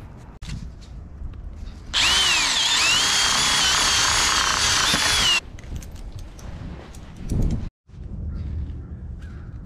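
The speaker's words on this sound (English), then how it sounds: "I'll start drilling some holes." A loud power drill whines steadily for a few seconds while drilling holes through a porch sill plate, then stops, followed by quieter handling noises and shuffling.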